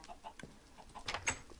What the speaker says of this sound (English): I do have those other chickens yet.